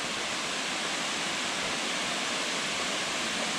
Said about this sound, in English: insane waterfall